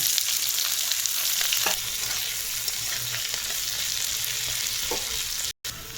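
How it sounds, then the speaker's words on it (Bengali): Onion and chilli fry in oil left over from frying potatoes in a home kitchen, giving a steady close sizzle with occasional stirring clicks and a momentary break near the end. "এবার ওই তেলেই পেঁয়াজ আর লঙ্কা একটু ভেজে নেব।"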